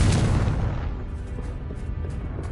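A Confringo blasting curse explodes in a video game: a loud, wide boom right at the start that slowly fades into a rumbling decay, with faint crackles trailing behind.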